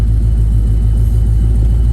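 A 1968 Chevrolet Camaro with a Turbo 350 transmission idles close by, its engine giving a loud, steady, deep throbbing rumble with an even pulsing rhythm and no voices.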